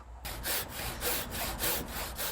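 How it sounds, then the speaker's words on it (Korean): A master carpenter hand-saws a length of timber, the blade rasping through the wood in a brisk, even back-and-forth rhythm of close, loud strokes with no talk. "직접 톱질을 하는 보유자"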